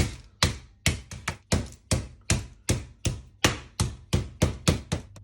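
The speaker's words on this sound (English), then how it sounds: "now I need to flatten them a little" Chicken breast on a chopping board, covered with greaseproof paper, is pounded flat with about fourteen loud, close, heavy thuds in an uneven but steady rhythm, each with a short ringing decay.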